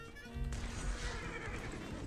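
A Crusader's steed in Diablo 3 lets out a loud, close whinny that rises and trails off over about two seconds, with a brief crash layered in partway through.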